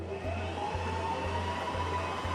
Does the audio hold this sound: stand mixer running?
yes